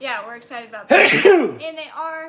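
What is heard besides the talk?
sneeze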